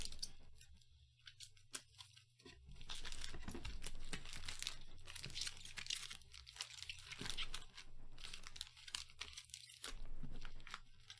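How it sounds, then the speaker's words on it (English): Close crinkling and flicking of stiff Magic: The Gathering trading cards being shuffled by hand, a continuous papery rustle with brief pauses. "Nice little shuffle as if it was a deck."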